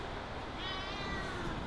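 A small shop cat named Mimi gives one drawn-out meow at close range, rising then falling over about a second, over steady street background noise.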